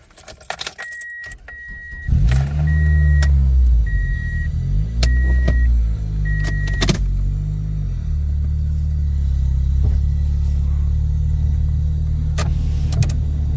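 A Toyota Corolla engine, just repaired for a misfire, cranks and starts after keys jangle, then settles into a steady, loud idle rumble that runs alone to the end.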